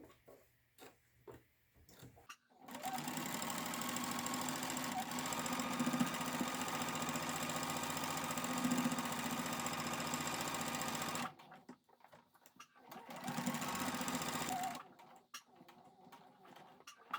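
A sewing machine runs in a long, fast, steady burst of stitching through a buffalo check pillow, stops, then stitches again briefly, with quiet pauses and handling between runs.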